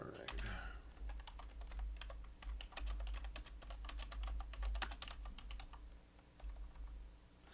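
Rapid typing on a computer keyboard, close clicking keystrokes in quick irregular bursts with brief pauses, over a low background hum and a muffled voice at times.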